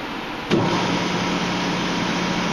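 A precision machining lathe switched on, a sudden start followed by a steady, loud motor hum and whine that runs evenly on its own.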